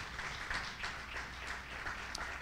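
Congregation applause inside a church during a sermon, a steady, fairly faint wash of many hands clapping together with no voices over it.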